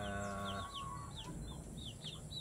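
Gamefowl chickens from a backyard farm cluck and chirp in short repeated calls, with a brief harmonic vocal at the start, set against low farmyard background noise.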